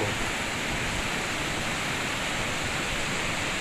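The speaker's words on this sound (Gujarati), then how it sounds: "નદીના લેવલથી ઉપર આઠ ફૂટ પાણી જાય જો પાણી પુલમાં ટકરાય" A steady, dense roar of rushing water fills the clip without pause as the flooded Madhuvanti River surges past a bridge nearby after heavy rains.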